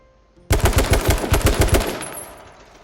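An AR-15 in the game H1Z1 firing a full-auto recoil test burst: about a dozen loud, close, evenly spaced shots after a short quiet lead-in, ending in a fading echo tail.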